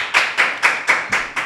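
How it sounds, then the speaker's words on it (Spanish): A few people clap in slow, evenly spaced bursts of about five claps, close and moderately loud, welcoming a guest onto a podcast set. "aplausos por favor"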